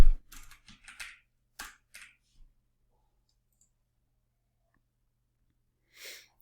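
Fingers type code on a computer keyboard: a brisk cluster of close key clicks, a few spaced taps, then quiet, with a soft breath near the end.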